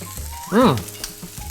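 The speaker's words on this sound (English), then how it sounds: "Back to our asparagus, browning nicely." Asparagus browns in a hot pan, a soft steady sizzle broken by one brief louder scrape or clatter midway.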